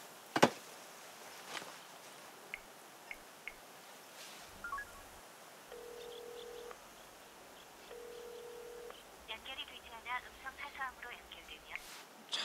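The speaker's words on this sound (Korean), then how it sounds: "전화 한 번만 더 해봐요 아빠" Ringback tones from an outgoing phone call sound twice as steady electronic beeps, fairly quiet, with keypad-like blips and soft background movement around them.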